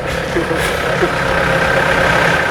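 An off-road 4x4 vehicle engine idling at an extreme-class off-road event, a loud, steady low rumble close by with no clear start.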